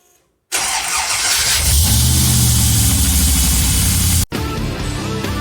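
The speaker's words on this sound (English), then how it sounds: "I'll just start this car up to let you know that it does indeed work" A VY donor car, bought for an LS1 V8 swap, starts up close by: a moment of silence, a brief crank, then the engine catches and settles into a loud, rumbling idle with a slight rev and a short break near the end.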